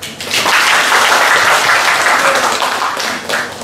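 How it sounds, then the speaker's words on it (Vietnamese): Warm burst of audience applause for tourism department officials on a famtrip, a short dense round of clapping that swells quickly and holds loud before tapering. "cho các ông chí lãnh đạo sở và toàn thể hội một tràng pháo tay"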